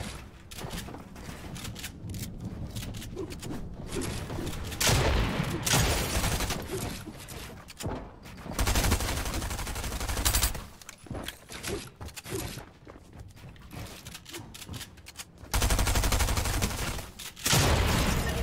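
Fortnite gunfire in a pro-streamer match: dense, loud bursts of shots and impacts come in waves across the whole stretch, with busy game noise between the bursts and no clear talk.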